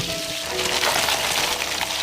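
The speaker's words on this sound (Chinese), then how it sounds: "爆香之后加入葱段、姜片，还有火锅底料" Scallions, ginger slices and hotpot base hit hot oil in a wok, giving a brief, close, crackling sizzle that stays steady for a couple of seconds.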